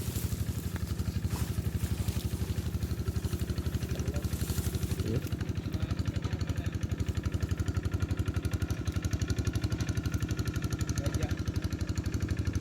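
A field tractor engine chugs steadily while plowing land for rice planting, a loud, close, rapid rhythmic putter that stays constant throughout.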